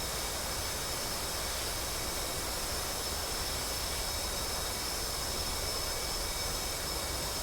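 F/A-18C jet engines spooling up on an aircraft carrier deck in the DCS flight simulator, a loud continuous roar and whine holding steady throughout.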